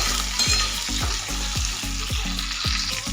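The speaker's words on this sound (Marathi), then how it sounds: "पहा चौकोन्या मिरचीला ना वरून डाग पडेपर्यंत छान परतून घेऊया." Capsicum sautés in hot oil with a continuous loud sizzle, while a spatula scrapes and stirs in a regular rhythm about twice a second, close up and with no talking.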